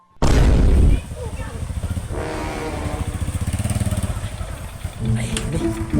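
A motorcycle engine revs loudly up close, then settles into a rough, pulsing idle that runs on for several seconds, with a voice briefly heard near the end.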